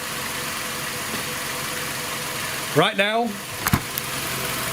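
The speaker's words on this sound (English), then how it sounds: "the engine is idling." A 2010 Nissan Altima engine idles with a steady, even hum that runs through the whole stretch, while a person speaks briefly over it partway through.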